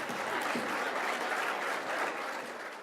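Audience applause for hall of fame inductees at a university athletics ceremony, a steady dense wash of clapping from a large crowd that holds throughout and tapers slightly at the end.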